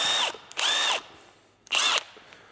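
A bolt gun power tool fires in two close bursts of high whining drive, each about half a second long, with a short pause between them.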